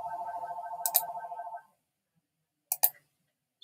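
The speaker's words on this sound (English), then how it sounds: "my phone's ringing." A phone rings during Forward Assault gameplay with a steady, buzzy electronic trill pulsing rapidly for about a second and a half, then stopping. A few sharp clicks sound over the end of the ring, and two more follow after a pause.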